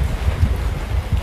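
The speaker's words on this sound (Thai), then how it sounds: "พัดลมข้างหลังมันดังเป็นพัดลมแบบอุตสาห" Steady low whooshing roar of a large industrial electric fan running continuously, with slight pulsing gusts and no voices.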